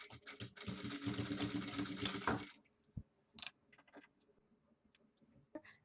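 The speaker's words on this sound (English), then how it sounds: "Now you should sew here about 1 centimeter" A sewing machine stitches fabric for a headband in a quick rattling burst lasting a couple of seconds, then stops, leaving faint clicks and small handling taps.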